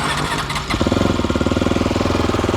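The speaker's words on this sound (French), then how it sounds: "il faut que je démarre la moto" A motorcycle engine cranks and catches, then settles into a loud, rapid, pulsing idle close by.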